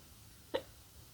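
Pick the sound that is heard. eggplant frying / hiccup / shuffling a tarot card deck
hiccup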